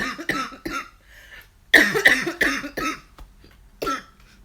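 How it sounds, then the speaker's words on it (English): A woman coughs several times in a home kitchen while prepping dinner during a live stream, with a few short scattered coughs first, then a louder cluster of harsh, close bursts near the middle and another cough near the end. "Hopefully I won't start coughing."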